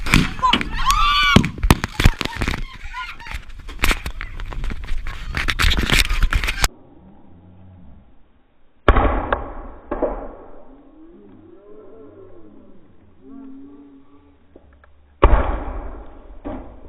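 A Supernova fireworks box goes off at close range: rapid loud cracking bursts and whooshing shots for several seconds, then a lull, a second barrage, and another burst at the end, with shouting voices among the blasts.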